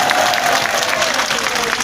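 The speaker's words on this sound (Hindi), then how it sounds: "इनके लिए जोरदार तालियां एक बार पीछे तक बजनी चाहिए" A rally crowd applauds loudly and continuously, a dense close roar of clapping with some cheering mixed in.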